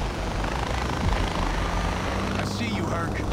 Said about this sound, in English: Their loud-ass mini chopper.